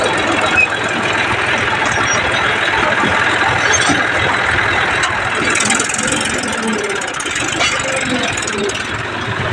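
A tractor engine runs steadily and loudly throughout, a dense rumble mixed with rattling noise that stays at an even level for the whole stretch.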